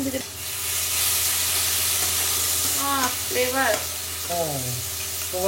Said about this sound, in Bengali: এটাকে অল্প একটু ভেজে নিয়েই যে লিকুইডটা ছিল মেরিনেট করার মাংসের, সেটা দিয়ে দেব।